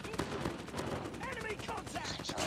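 Gunfire crackles through a Call of Duty Mobile match, dense shots and bursts running continuously over the whole stretch, loud and close, with game sounds mixed in.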